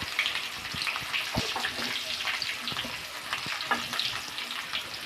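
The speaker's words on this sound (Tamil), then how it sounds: "வெங்காயமும் பச்சை மிளகாயும் நல்ல எண்ணெயிலே வதைக்கணும்" Onions and green chillies frying in oil in a Chettinad-style pan for a mutton blood fry: a steady crackling sizzle with frequent pops and spoon scrapes, quite close and moderately loud, with no speech.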